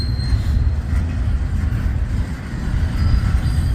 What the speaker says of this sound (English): we'll see if we can get these locomotives backing in. But here they come.